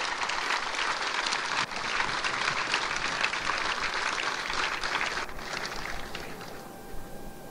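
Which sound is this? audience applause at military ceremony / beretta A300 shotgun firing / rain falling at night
audience applause at military ceremony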